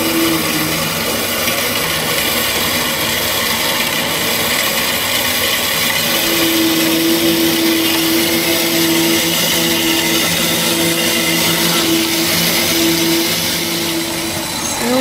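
A power saw grinds steadily through a flat steel bar for the whole stretch, a continuous harsh rasp with a droning hum underneath, loud and close.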